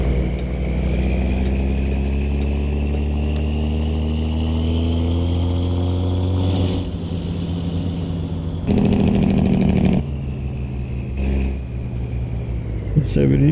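Peterbilt 389 with seven-inch straight pipes in American Truck Simulator, its loud steady diesel drone shifting pitch through gear changes while hauling live cattle, with a brief airy burst partway through.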